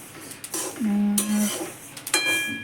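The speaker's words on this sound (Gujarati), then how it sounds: "અત્યારે તો તલ તલ શેકાય છે" Sesame seeds roasting in a metal pan are stirred with a utensil, producing close scraping and clinking, with a brief ringing metallic tone as the spoon strikes the pan.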